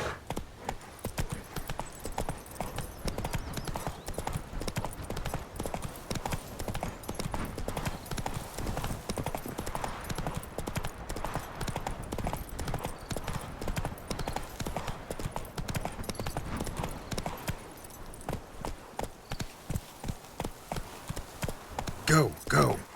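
Horse hooves pounding at a steady gallop in The Witcher 3, loud and close and continuous throughout, with game sounds layered over them and a brief spoken urging.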